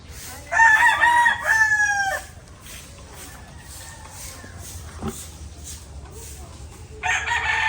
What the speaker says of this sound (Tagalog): stag bigay sa atin ni Boss Inko na galing sa Boso-Boso Antipolo